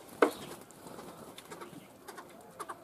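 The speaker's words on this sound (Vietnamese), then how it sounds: "Ở trong abi này là có cả một đôi cu gáy nữa anh em nhé" A pair of spotted doves coo in a cage, soft calls fairly close against a quiet background, with one sharper sound near the start.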